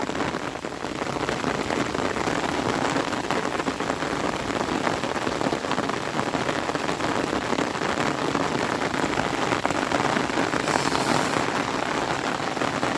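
Heavy rain pours down steadily at close range, a dense continuous hiss of drops striking surfaces with no letup and no voices.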